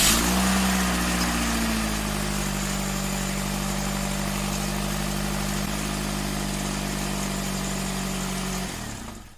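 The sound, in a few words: idling 2015 Nissan Qashqai engine with a misfire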